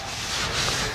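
Hand sanding on the trunk lid of an Impala gives a close, steady abrasive rubbing that runs without a break for about a second.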